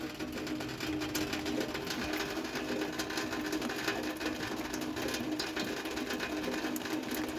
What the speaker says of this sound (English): That is the sound of a rainy day.